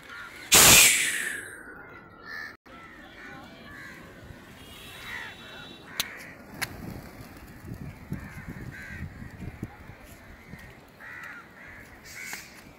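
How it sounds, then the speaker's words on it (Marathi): Crows caw intermittently at the Gateway of India in Mumbai, with pigeons around. A loud, brief burst opens the clip, followed by scattered calls of varying distance over steady outdoor city ambience. "कावळे पण आहेत इथं."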